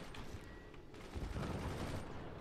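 Heavy mortar fire in the strategy video game Forts rumbles as a dense, continuous barrage of distant booms and impacts. The sound stays fairly quiet throughout.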